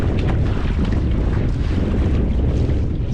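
Steady wind rushes across open sea water and buffets the microphone as a fishing kayak drifts off Seward, Alaska, a continuous low roar with faint lapping, no voices.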